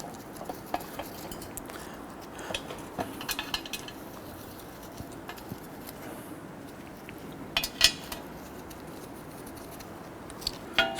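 Screws are started by hand into a brake backing plate on a 1992-1996 Toyota Camry, giving faint scattered metallic ticks and clinks over quiet room noise, with a few sharper taps.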